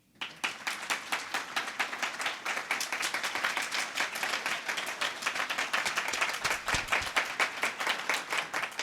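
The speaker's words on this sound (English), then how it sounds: "A round of applause" Audience applause at a substance abuse prevention day event, a steady wash of many hands clapping that fills the room and holds at an even, fairly loud level throughout.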